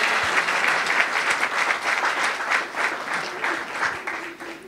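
Applause for the father at a baptism celebration with costumed performers, a steady, dense round of clapping from a festive crowd that carries on evenly throughout.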